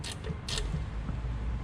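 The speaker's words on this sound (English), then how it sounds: "I'll tighten up the two little 12s in the back for the intake bracket." A ratchet turns the small 12 mm intake bracket bolts on a Nissan Murano 3.5 V6, giving a few quick bursts of clicking followed by a low mechanical creak, close by with no talking.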